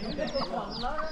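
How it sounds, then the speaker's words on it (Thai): Chickens cluck around a traditional Hmong village in Laos where ducks and pigeons are also kept, several birds calling in short overlapping bursts at moderate distance over steady outdoor background. "มีตัวไก่นกพิราบนี่เยอะจริง"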